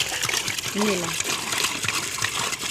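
Water trickles and splashes steadily as it is poured, close by, with someone speaking over it throughout.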